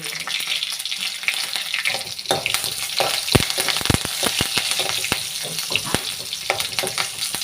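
Dried red chillies and curry leaves frying in hot oil for a tempering, giving steady close sizzling with sharp crackles and pops scattered throughout.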